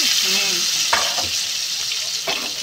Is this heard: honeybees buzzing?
no